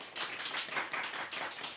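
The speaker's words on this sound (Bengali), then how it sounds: "সঙ্গীতার জন্য একটা করতালি।" A class of students claps for the top scorer on a mock test, a short, brisk round of applause that is fairly faint and lasts under two seconds.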